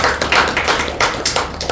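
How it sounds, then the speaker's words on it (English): Audience applause at a Toastmasters club meeting: a short burst of many hands clapping, close and fairly loud, with uneven overlapping claps and no speech. "Please give a huge round of applause."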